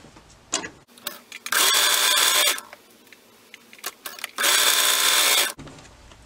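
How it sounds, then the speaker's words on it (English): A sewing machine stitches the side seams of a swimsuit's main fabric and lining in two loud, even whirring bursts of about a second each, separated by quieter handling clicks and rustles. "we are also going to sew the side seams together of our main and our lining."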